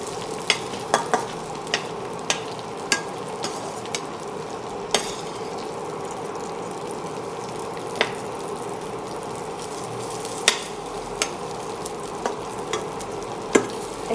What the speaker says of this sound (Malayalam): ഇതിനകത്ത് ഡ്രൈ ഫ്രൂട്ട്സ് ഇച്ചിരി ഫ്രൈ ചെയ്യണം. ഫ്രൈ ചെയ്ത് മാറ്റി വെക്കണം.